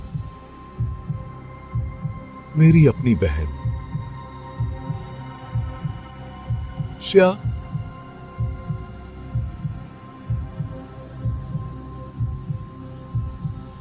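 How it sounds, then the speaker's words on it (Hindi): A heartbeat sound effect throbs steadily in a Hindi horror story, a low, evenly paced thumping close up, running under a woman's speech. "दिल की धड़कन तेज हो गई"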